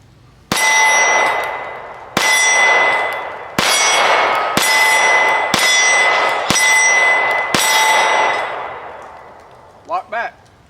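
FN 509 CC Edge pistol firing at an outdoor range: six loud, sharp gunshots with ringing metallic decay, spaced about a second apart, followed by brief talk.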